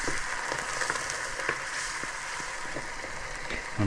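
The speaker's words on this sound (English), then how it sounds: "add our snails. That's 1 can of snails. And then deglaze it with some white wine." Canned snails for escargot sizzle in a hot pan after being deglazed with white wine, a dense steady crackle and hiss with small pops throughout, close and fairly loud.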